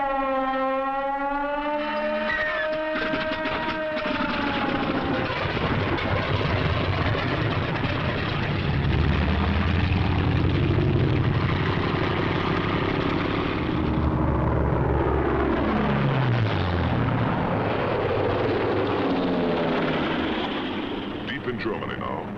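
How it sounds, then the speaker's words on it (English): WWII German fighter planes, Bf 109s and Focke-Wulf 190s, roar loudly and continuously, with engine pitch rising and falling as they pass. A wailing tone sounds at the start, and engine noise dominates after that. "This captured film shows how quickly the 109s and the Focke-Wulf 190s got into action."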